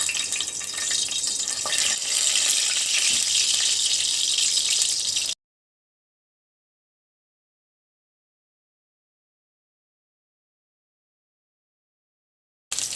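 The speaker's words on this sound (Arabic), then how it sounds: "عندي سخن الزيت، هنزل بقى بالممبار بتاعي." Stuffed mumbar sausage sizzling in hot oil gives a steady, bright hiss for several seconds, then stops abruptly into silence.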